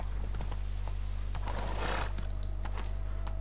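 Hooves clip-clop from a horse in the video game The Witcher III, a run of quick taps over a constant low electrical hum, with a brief rushing burst midway.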